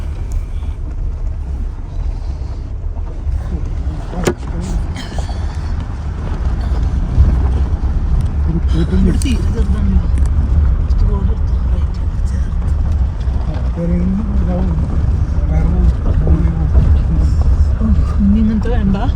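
A car grinds along a risky high mountain road near Pangong Lake on the Indo-China border at about 14,270 feet. Its low engine and road rumble continue steadily while people talk inside.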